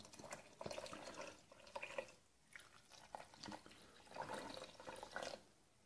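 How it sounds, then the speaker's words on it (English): Water being poured into a cooking pot over a beef brisket and vegetables, heard as a gentle splashing, gurgling flow in several uneven bursts, fairly faint and close. "I'm just going to top it up with a nice bit of water."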